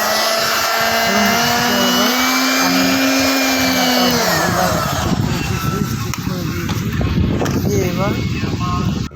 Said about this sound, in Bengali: চালু করে দেখলাম মিক্সিটা ঠিক আছে ঠিক হয়ে গেছে এবার ব্যাক কভার ঠিক করে চালু করে দেবো